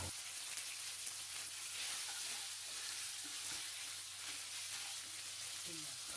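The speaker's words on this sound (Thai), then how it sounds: "เติมน้ำเปล่าลงไปเล็กน้อยครับเริ่มผัดทุกอย่างให้เข้ากันให้หมดเลยครับ" Spaghetti with dried chili, fish sauce and oyster sauce is stir-fried in a pan, a steady hissing sizzle with scattered stirring clinks, heard alone throughout.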